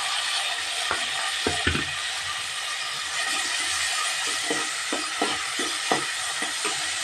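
Onions and tomatoes frying in a pan, a steady broadband sizzle running throughout with scattered soft clicks and stirring knocks of a spoon against the pan, close and continuous with no talk.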